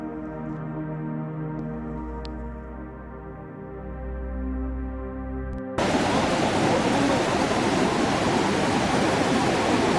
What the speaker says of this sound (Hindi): ये काली नदी